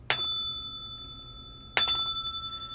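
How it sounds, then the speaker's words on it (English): A small bell is struck twice, about a second and a half apart, each a bright clear ding that rings out and decays slowly in a quiet room. "I'm gonna ring the bell for you as well"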